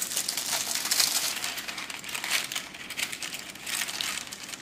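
Aluminum foil crinkles and crumples steadily for several seconds as it is pressed around the edges of a kabocha squash pie, a close, continuous rustling with no talk over it.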